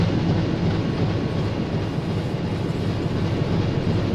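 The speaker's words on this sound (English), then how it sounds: "We're loud in the engine room." Loud, steady engine room rumble aboard a submarine in a U-boat video game, a continuous dense mechanical drone that holds constant without pauses.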